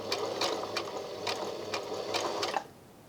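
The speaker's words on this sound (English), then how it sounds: "I'm going to just hand wind and make sure that the machine is not hitting the button" A Brother My Star 3 sewing machine, turned slowly by hand through a buttonhole, gives a steady whirring, clicking mechanism with regular needle beats before stopping abruptly, leaving faint quiet.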